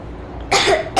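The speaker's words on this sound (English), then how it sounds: "I have this cough." A girl in the video game Metro Exodus coughs once, close and fairly loud, with a second cough just beginning as the clip ends.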